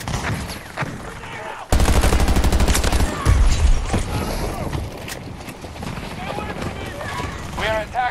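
Rapid automatic assault rifle fire in Battlefield 2042, likely an M416, with dense bursts of loud, close shots that break into scattered single shots and distant battle noise, alongside someone talking.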